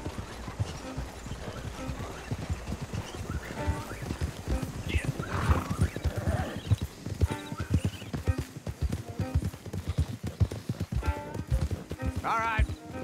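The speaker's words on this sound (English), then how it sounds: "Don't want the horses clopping around outside the window." Several horses' hooves clip-clop in a steady, close trot through a Red Dead Redemption 2 scene, with neighs and snorts, and voices talk over the hoofbeats.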